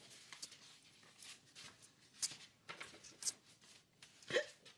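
Soft, close hiccups sound a few times in a quiet indoor room over low background noise, while folding laundry and tags.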